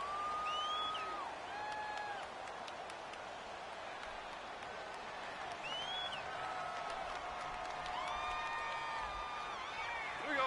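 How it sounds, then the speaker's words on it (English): Home stadium crowd in a football video game roars steadily throughout, with whistles and cheers rising and falling over the sustained din, no voices speaking. "The crowd's not doing that O-line any favors."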